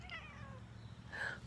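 A cat meows twice outdoors in the woods, a drawn-out call near the start and a louder, brighter one near the end, over a low steady background rumble.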